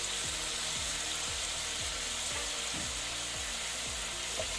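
Lamb with chopped tomatoes, onions and garlic sizzles steadily in a pan for a lamb curry, while repeated scraping strokes of stirring recur at an even pace; no talking.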